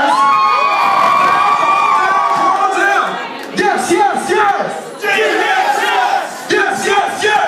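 A concert crowd at Hermans Hideaway cheers, whoops and shouts loudly and up close, with swelling bursts of yelling that briefly dip and surge again.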